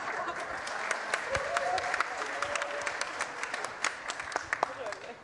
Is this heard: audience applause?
yes